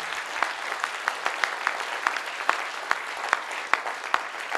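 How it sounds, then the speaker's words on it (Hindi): Audience in a lecture hall breaking into sustained applause, a dense wash of clapping with sharper individual claps popping out, steady and fairly close throughout. "तो एक बार पूरा सदन तालियां उठाए तो अच्छा लगेगा यार"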